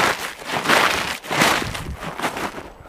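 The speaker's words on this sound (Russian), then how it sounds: "А вы сейчас слышите шум от моих снегоступов." Snowshoes crunch loudly on crusted snow in a forest in winter, the close footsteps falling in a slow, steady rhythm of one scraping crunch after another.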